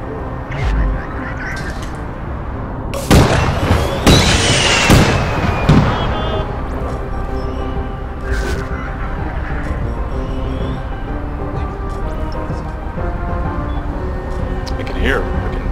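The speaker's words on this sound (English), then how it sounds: "I can hear a freaking missile" Missile explosions in the online shooter APB: Reloaded, with a cluster of loud sharp blasts around three to five seconds and scattered smaller bangs later, over constant game noise while a player talks.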